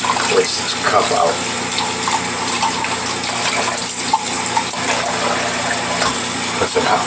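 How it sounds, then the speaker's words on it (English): Hot water pours steadily into a shaving cup during a head shave, a loud, continuous splashing gush that fills the whole moment without a break. "Put some hot water in it."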